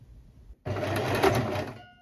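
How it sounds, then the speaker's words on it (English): Sewing machine running a straight stitch while sewing a bag together, a sudden close whirring burst of rapid stitching lasting just over a second before slowing to a stop. "I'm going to do a straight stitch and then I'll go back around with a zigzag to just reinforce the seams."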